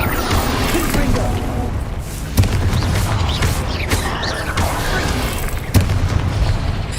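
Confringo fire spell explosions in the Hogwarts Legacy video game, with loud, booming blasts and sharp impacts over a dense, rumbling battle din that continues throughout.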